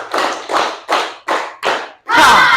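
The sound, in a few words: rhythmic group clapping, three claps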